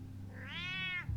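A single cat meows in Batman: The Telltale Series, a clear rising then falling drawn-out mew lasting under a second, close and distinct over a low steady background hum.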